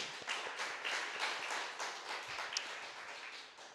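Members of a church congregation at a Sunday worship service clap together in a soft, fairly quick patter, a small group's applause that stays even and moderately distant for a few seconds.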